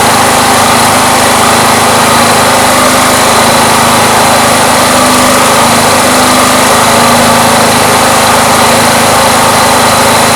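TAGRED 4000W inverter generator engine runs steadily after sitting unused, a loud close continuous drone with a high-pitched buzz, no talk over it.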